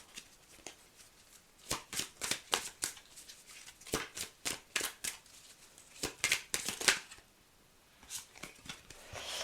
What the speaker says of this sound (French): je vous tire une dernière carte conseil pour les vierges